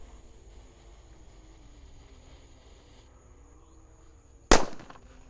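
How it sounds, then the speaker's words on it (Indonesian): A UFO-type firecracker bursts once with a sharp, loud bang after a few seconds of quiet outdoor night ambience during Ramadan celebrations, its crack trailing off briefly. "Di sini ada mercon UFO guys."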